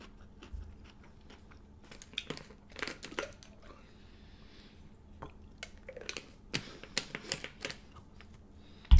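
Someone chewing stir-fried vegetables and shrimp cooked in a wok, with irregular crisp crunches and bites scattered close to the microphone, fairly quiet overall.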